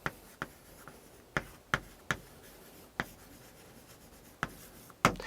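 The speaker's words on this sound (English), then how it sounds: "So I'm just going to write 1-to-1 correspondence." Pen or marker writing on a board or paper, about a dozen short sharp scratchy strokes at uneven intervals, close and fairly faint against a quiet room, with no one talking.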